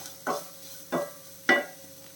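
A spoon stirs grated coconut into sautéed onions in a pan, three separate scraping strokes over a faint steady sizzle, close by and with no voice.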